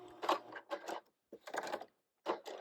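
A sewing machine back-stitches fabric in short mechanical bursts, three quick runs of rapid clattering stitches separated by brief pauses, close and clear.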